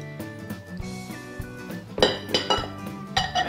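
Clinks and knocks of utensils against a bowl as enchilada ingredients and grated cheddar cheese are added, close and fairly loud, with ringing metallic taps in quick succession.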